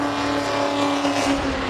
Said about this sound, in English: the revs are really dipped down as he gets the tyres off